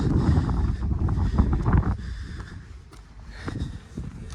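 Wind buffeting the microphone on a Lake District fell walk near Buttermere, loud gusty rumbles that surge and ease, with faint footstep-like scuffs.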